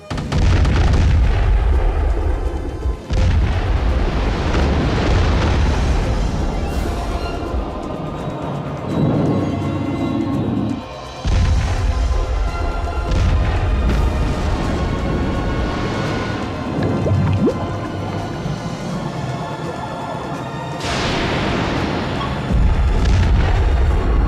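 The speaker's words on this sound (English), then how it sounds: "Fire! Commence firing! Commence firing." Naval guns fire in a movie sea battle against giant sea monsters, a barrage of heavy booms and blasts rolling over one another continuously, loud and close, with deep rumbling between shots.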